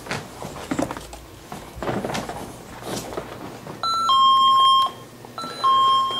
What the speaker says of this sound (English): That's the sound we'll hear if something triggers the motion sensor throughout the building